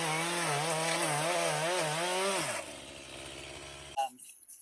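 A chainsaw cuts notches into a tree during a first-time DIY tree removal for a log cabin build, its engine revving steadily and loudly before dropping to a rough idle, followed by a brief clatter at the end.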